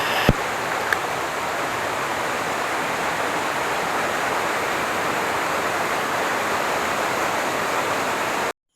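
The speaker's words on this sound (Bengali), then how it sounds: "এখানে ছোট একটা ঝর্ণার মতো তৈরি হয়েছে।" A small waterfall-like cascade near the Dulung river in Jhargram's Belpahari area rushes in a steady, unbroken wash of flowing water, with a faint click near the start.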